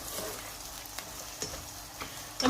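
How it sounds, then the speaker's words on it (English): Onions hit hot oil in a pan for a kofta curry, giving a soft, steady sizzle with a few faint stirring scrapes near the end, quiet and close with no talking. "the oil has heated up, we're just going to add the onions in."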